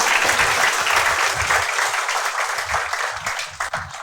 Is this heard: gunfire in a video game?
no